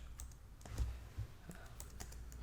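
Computer keyboard typing at close range, a quick run of light key clicks with a couple of heavier thumps, steady and alone with no voices.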